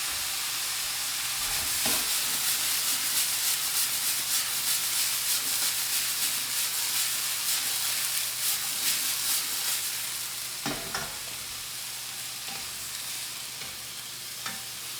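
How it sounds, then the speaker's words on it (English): Vegetables stir-fried in a pan with a steady close sizzle and scraping stir throughout, easing slightly toward the end, with a couple of louder knocks of the utensil, no talking. "A very simple stir fry of vegetables"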